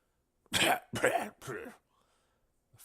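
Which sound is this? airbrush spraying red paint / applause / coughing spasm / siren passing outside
coughing spasm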